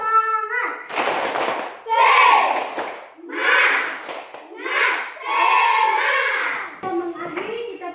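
A group of children performs a rhythmic spirit clap in a classroom, loud bursts of clapping alternating with their chanted voices in a lively, patterned cadence.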